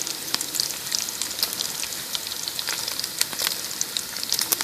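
Sausage browning in a pan over a campfire, giving a steady, dense sizzle with crackling pops throughout, close and fairly loud, with no talking.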